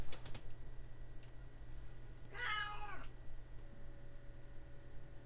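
A house cat lets out a drawn-out, wavering meow partway through, fairly close and clear over a low steady room hum, with a couple of faint taps near the start.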